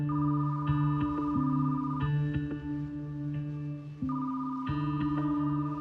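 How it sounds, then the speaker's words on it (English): An unanswered telephone rings again and again with a steady electronic warble, the repeated rings loud and close, and no one speaks over them. "but the phone rang out."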